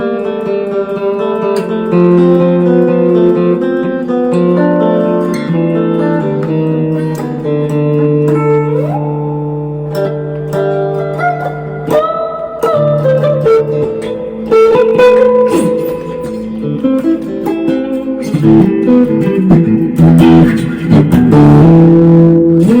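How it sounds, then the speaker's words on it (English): Clean electric guitar through a Fender Jazz King amp, sustained chords and melodic notes ringing out with lush, splashy spring reverb tails, loud and close. "you can hear how sweet the reverb sounds on this amp."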